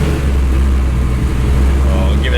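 A Procharged C5 Corvette Z06 engine idles steadily with a low, continuous rumble, running rich, loud and close, with voices talking over it.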